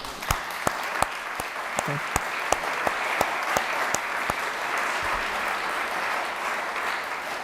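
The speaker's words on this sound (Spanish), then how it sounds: "Un aplauso para Camila." Sustained applause from an audience, a dense wash of clapping with a few louder individual claps standing out near the start.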